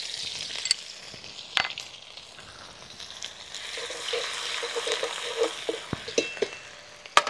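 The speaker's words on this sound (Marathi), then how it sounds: "जिरे गरम झालं की त्यातच आलं लसूणची ती थोडी पेस्ट उरून ठेवलेली ती पण टाकून घेऊ." Cumin seeds and ginger-garlic paste sizzle in hot oil in a village kitchen, a steady close frying hiss with occasional sharp pops and stirring scrapes, no voices.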